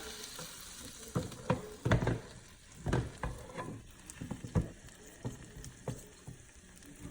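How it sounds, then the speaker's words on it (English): Butter browning in a pan for garlic butter salmon, a soft low sizzle broken by scattered pops and stirring knocks, close but fairly quiet, with no speech. "We want to make sure that it turns brown, a brownish color, to the point where it has a nutty type of flavor or smell."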